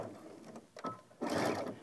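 A sewing machine stitching down a fabric bag, a short stop-start whir with a brief pause, then a steadier louder run of stitching.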